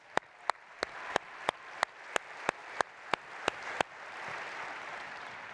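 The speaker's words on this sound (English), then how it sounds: "Let's give Dan and his team a round of applause." Audience applause at the 43North startup competition finals in Buffalo, 2025: a steady run of sharp, evenly spaced claps leads into a broader, softer wash of clapping from the crowd.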